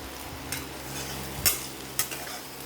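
Food fries in a pan with a low, even sizzle, while a few sharp metallic clinks and scrapes from stirring stand out. No talking.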